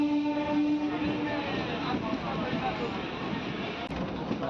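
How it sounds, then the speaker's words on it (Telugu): A MEMU local train running on the Vijayawada–Machilipatnam line just after leaving Gudivada, a steady loud rumble and rattle heard from inside the coach, with people talking over it. "గుడివాడ నుంచి మన ట్రైన్ బయలుదేరిపోయింది"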